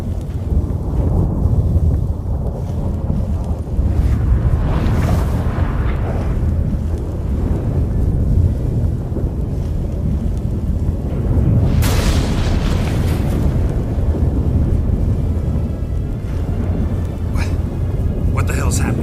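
Storm with thunder in The Witcher 3 video game: booming rumbles and gusting wind roar under continuous dramatic noise, with louder crashes midway and near the end, and characters talking over it.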